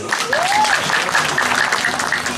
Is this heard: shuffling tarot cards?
no